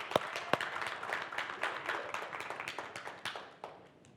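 Sparse, light applause from a small audience, a few sharp claps at the start followed by thin, irregular clapping that fades out, fairly faint and distant.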